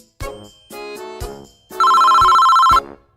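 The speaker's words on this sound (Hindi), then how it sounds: "अरे यह किसका फोन बज रहा है?" A mobile phone ringtone goes off in a cartoon courtroom, a loud, steady electronic tone lasting about a second after some brief musical or vocal sounds, close and clear.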